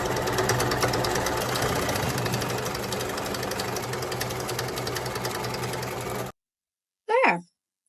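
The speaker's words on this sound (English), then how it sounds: "Now let's fold this in half again and stitch it down" A sewing machine runs a long, steady, rapid stitch through folded curtain fabric, close and loud. It then cuts off abruptly, followed by a short spoken remark.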